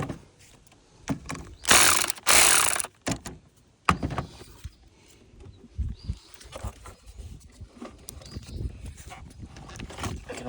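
A ratchet wrench works loose the upstream O2 sensor on a 2013-2019 Ford Escape 1.5L, with irregular bursts of clicking ratchet strokes and metallic handling noises, close up, separated by pauses.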